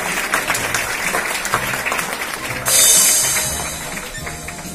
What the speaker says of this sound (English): these students deserve a big round of applause